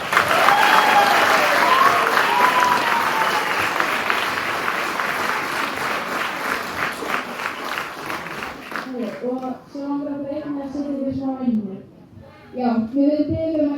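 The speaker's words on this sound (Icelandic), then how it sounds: "Gefum öllum gott klapp." Audience applause at a school Christmas show, loud dense clapping for the first several seconds, then thinning out as children's voices and chatter take over.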